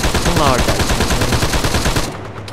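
Loud, rapid suppressive gunfire pours into a building in the video game Arma 3, a dense continuous stream of shots that ends abruptly near the close.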